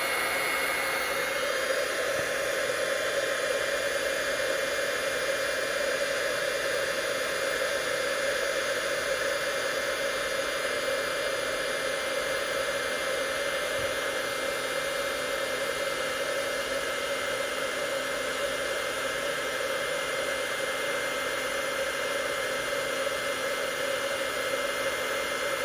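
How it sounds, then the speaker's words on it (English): A handheld craft heat tool blows hot air in a steady, even whoosh, loud and close throughout, used on cardstock while making a sympathy card, with no talking over it. "Grab my heat tool"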